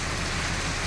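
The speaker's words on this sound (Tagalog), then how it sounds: "Pangatlong araw nang umuulan dito." Steady rain pours down on a surface for the whole second, a dense, even hiss with no voices, falling during a third straight day of wet weather.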